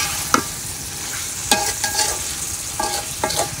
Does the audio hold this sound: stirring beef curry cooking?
yes